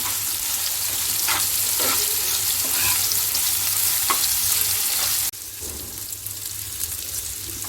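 Keema sizzling in a hot tawa after the oil separates, with mango pickle, roasted crushed cumin and garam masala being stirred in; a steady loud fry with scraping stir strokes, dropping slightly in level near the end.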